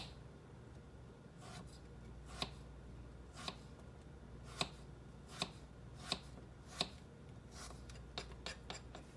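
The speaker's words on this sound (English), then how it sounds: "now we're going to cut these up real thin." A knife slices peppers thinly on a board, giving faint, irregular crisp taps spaced about a second apart, close by and quiet.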